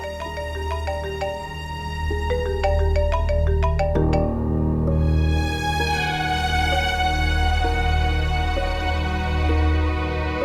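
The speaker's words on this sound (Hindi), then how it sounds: "नईमा की फोन इस वक्त" A phone rings with a melodic tonal ringtone, a clear repeating electronic tune over a low sustained background drone, loud and close throughout.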